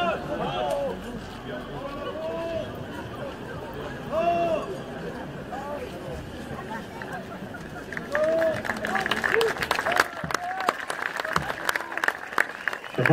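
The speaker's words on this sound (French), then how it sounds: "Je crois qu'il mérite tous vos applaudissements." Outdoor crowd applauding after a Napoleonic battle reenactment, clapping that starts scattered under chatter and calls, then swells into denser, louder applause toward the end.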